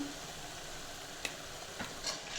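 Eggplant with spices frying in oil while being stirred, a soft continuous sizzle with a few faint scraping knocks of the spoon against the pan.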